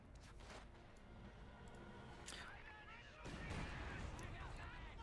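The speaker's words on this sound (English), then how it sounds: "Oh, the mortar blew up the telemine." A mortar shell sets off a Teller mine in the Company of Heroes strategy game, a muffled blast swelling among distant gunfire and battle noise under a commentator's voice.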